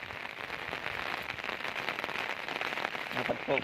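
Heavy rain pouring steadily in a Gujarati village during a downpour of two to three inches, a dense, continuous hiss with scattered sharper drops, fairly close, with no voices.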